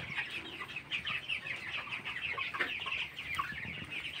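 A flock of 22-day-old broiler chickens in a poultry shed at night keeps up a dense, steady chorus of clucks and chirps, with overlapping calls close by.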